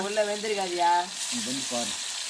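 Fish frying in hot oil outdoors in a village gives a steady, close sizzling hiss that runs the whole time beneath loud overlapping voices of people talking.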